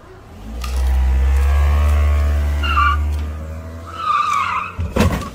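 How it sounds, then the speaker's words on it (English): Car tires squeal hard in a GTA RP video game as a small car drifts in reverse, a loud sustained screech over engine roar that fades, then sharper bursts of skidding near the end. "put a car in reverse and you heard the tire squeal"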